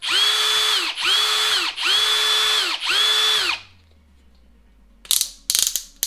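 A Parkside 20V Performance cordless drill driver spins up in four even bursts of high whirring with ratcheting clutch clicks, then stops, followed by a few sharp knocks near the end; no one speaks.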